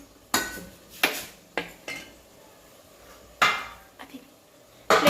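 A metal spoon stirs brinjal curry in a pan, giving about seven sharp, close clanks and scrapes at irregular intervals with quiet between them.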